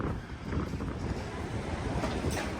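Strong wind buffets a rooftop at a camping rally while an awning is being taken down, making a loud, steady, rumbling roar with constant gusty fluctuations close to the microphone.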